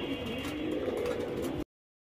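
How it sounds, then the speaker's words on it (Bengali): A Parbin pigeon, one of a pair of fancy pigeons, coos softly and continuously nearby over a faint background hum, cutting off abruptly near the end. "ভাই এখানে দেখতেছেন একটা পারবিন কবুতর খুব সুন্দর পুতুলের মতন"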